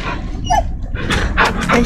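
A dog in the video game The Medium gives short barks and a small whimper, up close and in quick bursts, mixed with other game sounds.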